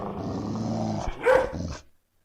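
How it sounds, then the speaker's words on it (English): A pack of predators growls and snarls while fighting over alligator meat in a dark swamp, a dense, continuous rumble of overlapping growls with a sharper yelp near the middle before it cuts off. "The pack was growling and fighting each other over the alligator parts"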